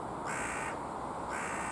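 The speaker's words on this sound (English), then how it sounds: "there was about 50 of them crows in that tree the other day" Crows cawing from a tree at allotments, two loud harsh caws close by, separated by a short pause, with no talk.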